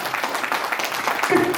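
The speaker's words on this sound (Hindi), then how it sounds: "महान आत्मा के लिए एक हमें ताली बनती है।" Applause from a crowd at a ceremony honouring women, where 101 girls' births are being celebrated, a dense wash of clapping filling the short moment with no voice over it.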